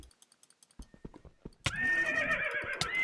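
A horse in the video game Minecraft neighs loudly and close, a sustained whinny following a run of quieter clip-clop taps, with no talking over it.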